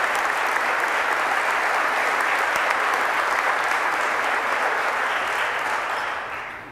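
Sustained applause from the audience at a New Jersey state budget address, steady dense clapping filling the hall at full level and fading slightly at the very end.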